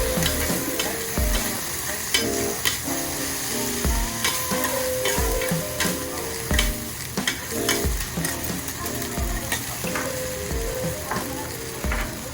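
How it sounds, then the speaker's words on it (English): Mochi stir-fried on a hot monja griddle in Tokyo sizzles steadily while a spatula scrapes and taps against the metal plate in a busy, uneven rhythm, close and fairly loud. "You put the mochi. I'm gonna stir fry it."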